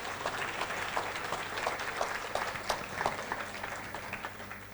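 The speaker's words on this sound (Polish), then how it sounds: "że jeszcze raz zasłużone brawa." Sustained applause from a conference audience in a hall, dense steady clapping that carries on evenly throughout with no voices over it.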